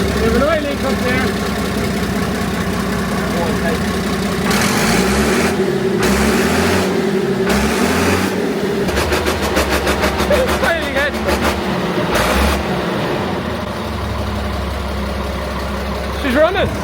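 A Massey Ferguson MF 1200 tractor with an oil leak runs steadily nearby, its rumbling engine lurching through several heavy low surges before settling into an even idle, with people talking over it.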